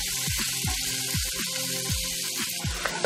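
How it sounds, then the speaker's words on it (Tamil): Small onions sauté in a pan toward a golden colour, a steady close sizzle with a recurring series of soft low thumps or bubbling pops every half second or so, no talking. "இது நல்லா கலர் மாறுற வரைக்கும் கோல்டன் கலர் வர வரைக்கும் வதக்கலாம்"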